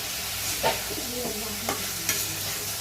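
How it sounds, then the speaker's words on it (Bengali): Green chilies fry in oil with turmeric and salt for a Bengali snakehead fish dish, a close, steady sizzle broken by a few scraping stirs of the spatula against the pan. "কাঁচামরিচ তেলে দিয়ে দিব এটাকে ভালো করে ভাজা ভাজা করতে থাকবো"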